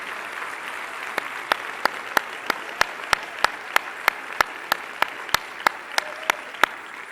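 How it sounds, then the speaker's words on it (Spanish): Church congregation applauds during a sermon, a steady moderate wash of clapping with distinct louder claps punctuating it at a fairly even pace, no talking. "denle un aplauso fuerte al Señor Jesús."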